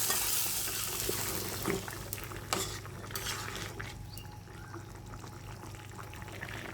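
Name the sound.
tempering spices sizzling in hot oil, shrimp pumpkin curry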